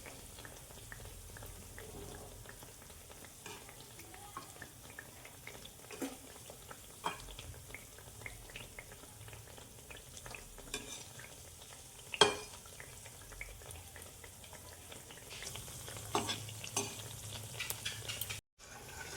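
Chhana jalebi frying in oil on low heat, turned now and then, makes a quiet, steady bubbling sizzle with soft scraping and scattered utensil taps.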